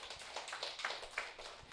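Scattered hand clapping from a small audience at a church camp gathering, faint and uneven, with a few sharper individual claps standing out among soft patters.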